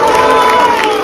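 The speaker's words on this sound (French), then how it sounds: "Tous les gens qui applaudissent là" A crowd at a street political scene cheers and claps in a brief, loud burst of mixed voices and hands, with no single voice standing out.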